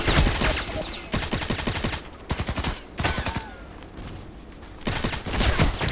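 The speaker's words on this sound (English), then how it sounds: "I was shooting at the head." Video game gunfire in Contract Wars, rapid bursts of automatic shots in several separate volleys with short pauses between them, loud and close.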